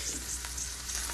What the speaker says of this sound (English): Then we'll add in our cabbage.